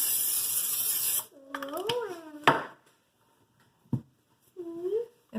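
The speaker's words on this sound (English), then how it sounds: "and spray it." A burst of cooking spray hisses onto a baking sheet for about a second, followed by a voice speaking and a few brief clicks and taps in a quiet kitchen.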